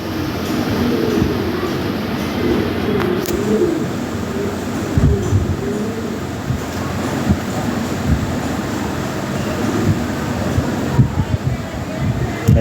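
Fancy pigeons kept for sale coo in soft, repeated murmurs, close by amid a steady hum of background noise, while people talk over them.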